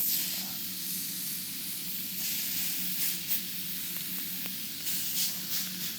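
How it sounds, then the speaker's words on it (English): Fillet steak searing in a super-hot cast iron dish at an outdoor kitchen, a steady close sizzle and hiss with occasional crackles and pops, no voices over it. "our cast iron dish is super hot. What we're gonna do, we're gonna go with our fillet steak, okay, to create a nice sear."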